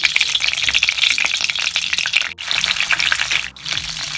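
A spoonful of butter meets two cups of hot oil in a kitchen pan, producing a loud, bright, continuous sizzle with crackling spatter that briefly dips twice, close up, with no voices.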